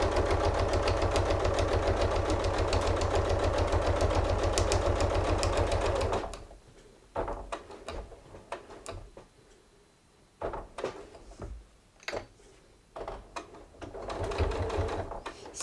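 Sewing machine stitching fabric for a tote bag, running in a steady, close whir for several seconds, then stopping and starting in short, uneven bursts with small mechanical knocks in between.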